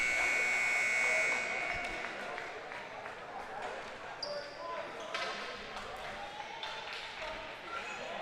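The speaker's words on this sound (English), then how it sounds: "Buzzer goes." A buzzer sounds at an ice hockey game, a loud sustained tone in the opening second before fading into arena crowd noise and the thud of pucks, with a commentator talking.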